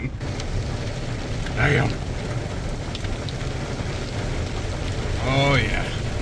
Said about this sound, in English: I told you it was raining. It's raining.